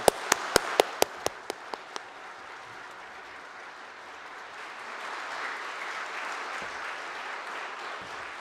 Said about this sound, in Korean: 커다랗게 박수하시겠습니다.